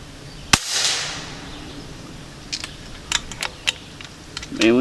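A Discovery Optics LHD 8-32x56 rifle scope turret being adjusted gives a run of small, crisp clicks, irregularly spaced and fairly faint, after one sharper snap near the start.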